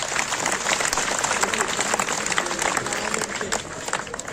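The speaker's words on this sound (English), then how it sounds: "Have a huge round of applause for him." Steady applause from an audience at a school celebration of World Environment Week, a dense wash of many hands clapping throughout without pause.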